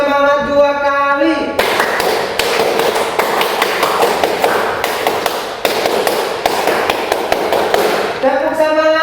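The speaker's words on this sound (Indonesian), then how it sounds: "Tepuk semangat 2 kali." A classroom group stands and performs a spirit clap, clapping sharply in a fast rhythmic pattern, with a voice speaking just before and after.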